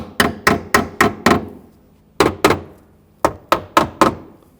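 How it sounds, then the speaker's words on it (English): Sharp small-hammer taps fitting rear upper shock mount parts on a 2007–2013 BMW 328i, in three quick bursts (five, then two, then four), ringing briefly and close, with short silences between groups. "Use a hammer, just a small hammer, and tap them in."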